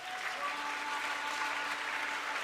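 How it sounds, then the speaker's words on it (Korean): A congregation at a school Easter service gives a steady burst of applause to welcome a speaker, a continuous, evenly dense clatter of many hands over a faint low hum. "함께 큰 박수로 맞이하도록 하겠습니다."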